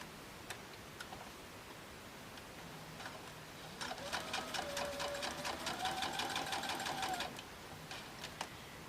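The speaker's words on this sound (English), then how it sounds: "we're going to go ahead and sew on that line" Stitching a fabric strip for a Christmas star ornament on a sewing machine: a brief run of rapid, even needle clatter in the middle, with scattered soft clicks before and after and no talking.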